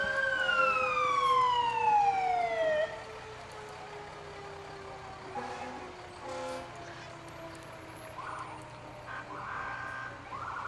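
Wailing sirens sweep down from fire trucks rolling in a July 4 parade in Waupaca, Wisconsin, loud for the first few seconds, then a softer steady drone with distant siren tones and crowd murmur.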